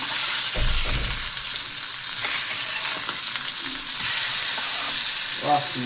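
Fish frying in hot oil in a pan, a loud, dense, continuous sizzle with bubbling crackle, plus a brief low thump near the start and no speech.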